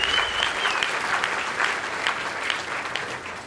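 Conference audience applauding at a thematic education and technology forum, dense sustained clapping from a large crowd, steady and even throughout with no voices over it.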